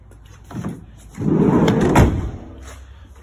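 The double rear doors of a van swing and shut with a muffled mechanical rumble and a dull thump, close by, with lighter latch clicks before and after.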